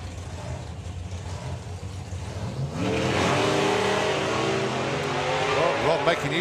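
A drag racing car at the FIA Main Event launches down the strip, its engine jumping from a rumbling idle to a loud, rising roar of acceleration, with a commentator's voice running over it.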